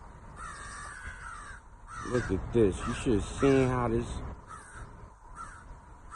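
Crows caw outdoors in a run of loud, harsh calls that come in quick bursts midway through, while someone talks excitedly over them.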